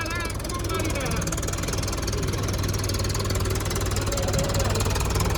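A Mahindra tractor engine is held at high revs, in a loud, steady, continuous mechanical drone with a throbbing low rumble that never lets up, recorded close by.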